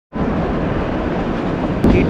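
Kalka–Shimla toy train running on its narrow-gauge mountain line at slow speed, a steady broadband rumble and rattle heard from on board, with a brief brighter clatter near the end.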